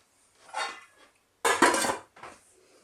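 A spoon scrapes and clinks against a cooking pot while stirring a chicken and leek stew with tomatoes and garlic, three short bursts of metallic scraping, close and loud, with no talking.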